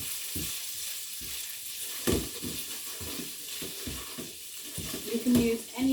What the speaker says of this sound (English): I've got some meat browning in the pot.